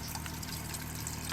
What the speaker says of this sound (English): I'll pour some water in it.